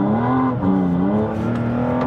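A Porsche accelerating from a standing start on a driving course, the engine note rising steadily in a loud, smooth, close-up whine with no talk over it.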